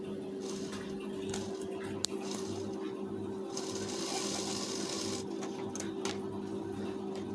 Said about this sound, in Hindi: पट्टी को खींचकर सिलाई चलाएंगे।